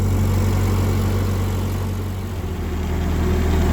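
A 1940s Ford tractor engine running slowly in low gear, held at working RPM: a loud, steady low rumble with a constant throbbing drone, close and uninterrupted, with no voices.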